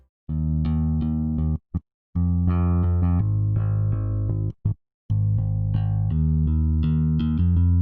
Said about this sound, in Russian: я изолирую дорожку баса и попробуем выбрать какой-нибудь другой звук